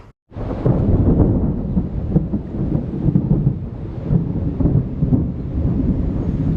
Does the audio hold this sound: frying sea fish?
no